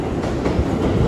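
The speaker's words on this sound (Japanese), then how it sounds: "これは名古屋から来た近鉄特急ということですね" A Kintetsu limited express Hinotori train pulling through a station at Osaka Namba: loud, close rumble of wheels and rail joints with rhythmic clickety-clack, no voices.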